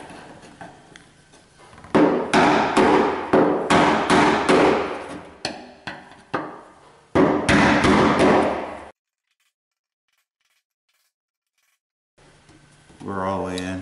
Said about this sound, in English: What's gonna happen when you hit on one side, it's gonna push it into the the retaining collar.